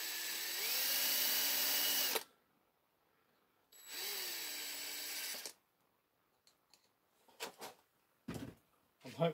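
A small power drill spins up in two long, steady bursts to drill out the riveted windscreen on a Matchbox Fiat 1500 die-cast model car, each run whining at an even pitch, followed by a few short clicks and knocks as the work is handled.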